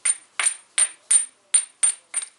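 An abrader is scraped repeatedly along the thin edge of an obsidian flake, seven sharp, bright strokes in an even rhythm, close and crisp against silence.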